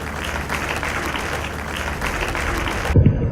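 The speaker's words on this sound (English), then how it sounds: "Please give him a round of applause." Audience applause at a formal ceremony as a speaker is welcomed, a steady dense wash of clapping that cuts off abruptly near the end.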